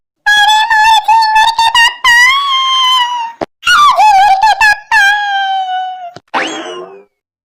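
A woman wails and screams while crying: loud, high, wavering cries come in long bursts with short breaks, and the last one rises into a raspy shriek.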